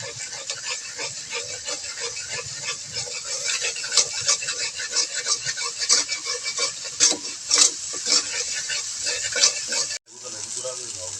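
Spice masala with chili powder being stirred and fried in a pan, a loud, busy sizzle with repeated scrapes and clinks of a spoon against metal, briefly cut off near the end before resuming.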